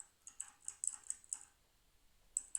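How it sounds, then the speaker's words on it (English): Rapid clicky keystrokes on a mechanical keyboard tap out in a quick irregular burst, then pause before a couple more presses, quiet and close. "it's not as loud as your mechanical keyboard"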